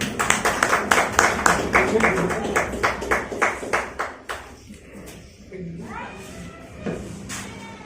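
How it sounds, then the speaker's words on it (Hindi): An audience at an IMC product meeting claps in a quick, rhythmic burst for several seconds, then the applause thins and fades while a voice talks. "तो चलिए इसके लिए भी एक जोरदार ताली होनी चाहिए"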